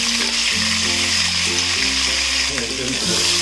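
Green chilies and ginger garlic paste sautéing in a pan, a loud continuous sizzle and frying hiss under steady background music, with no clear stirring strikes.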